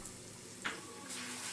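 Methi paratha frying in white oil in a pan, a steady soft sizzle with a brief crackle and a slight swell near the end, quiet and with no talking.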